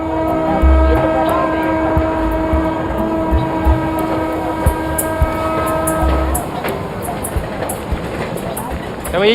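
A freight train in northern Brazil rumbles past close by with steady clattering wheels and a sustained horn tone, its noise swelling toward the end.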